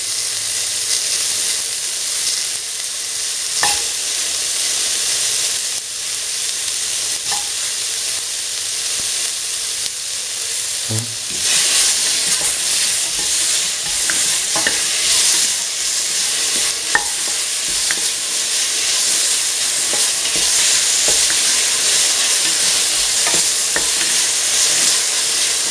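Tomato pieces sauté in a pan with a continuous sizzle that grows louder partway through, broken by occasional stirring clicks and scrapes.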